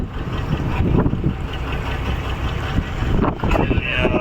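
Fishing boats at sea off Satpati near Mumbai, a steady rumble of water and wind against the hull with faint engine drone and occasional splashes.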